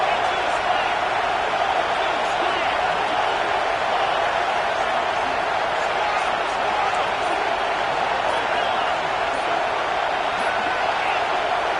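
Football stadium crowd at a Mizzou game, a dense, loud, sustained roar that holds steady without letup, with commentary voices under it.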